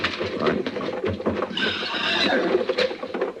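Horses by a stagecoach neigh in a radio drama, a brief shrill whinny rising over rumbling hoof and wheel noise, with voices talking around it.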